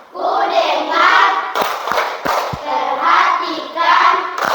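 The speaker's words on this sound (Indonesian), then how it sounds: "Oke. Tepuk fokus." A group of schoolchildren in an Indonesian classroom chant the rhythmic 'tepuk fokus' clapping routine, loud and close, with sharp hand claps punctuating the chanting in a steady pattern.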